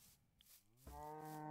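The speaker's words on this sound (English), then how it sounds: "Oh, there's some cows." Cows mooing in the video game Minecraft: a low, drawn-out bovine moo that swells in the second half of the clip, clear and fairly close, with no talking.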